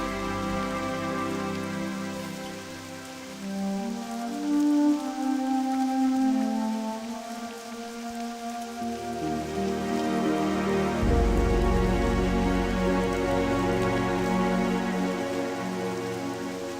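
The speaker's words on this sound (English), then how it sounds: "It's raining quite heavily." Heavy rain in the World of Warcraft video game, a steady broadband wash of rainfall on surfaces, continuous and fairly loud for the whole stretch, layered over soft sustained game music tones with no talking.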